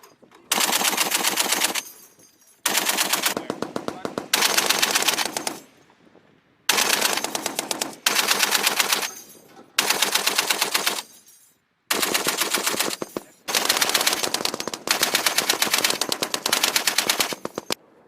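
A Marine Corps machine gun firing on a training range, loud close bursts of automatic fire, about eight long bursts separated by short silent gaps.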